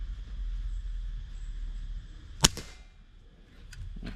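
A single sharp crack from a Vietnamese tactical air rifle fired at a box target outdoors, loud and brief against a quiet background hum, followed by a faint softer tap moments later.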